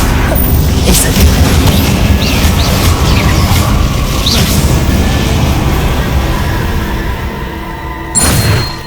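Incendio, a fire spell cast in the video game Hogwarts Legacy, roars with a loud, steady, booming blast of flame that holds for several seconds, then ends in a sharp burst near the close.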